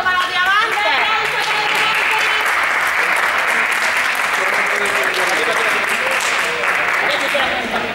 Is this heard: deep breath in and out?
no